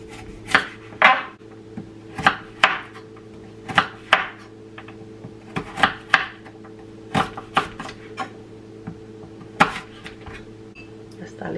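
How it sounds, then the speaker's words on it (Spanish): Kitchen knife slicing a thick carrot into large rounds on a cutting board while making Chinese-style rice, with sharp, clear chops landing in an uneven rhythm roughly every half second to second, close up over a steady low appliance hum. "Miren, está gruesa la zanahoria, salen unas rebanadas bien grandes."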